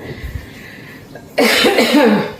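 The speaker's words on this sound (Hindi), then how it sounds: "मुझे खांसी हो रही है" A woman coughing indoors, a sudden loud harsh cough burst rising after a quieter stretch of faint room noise.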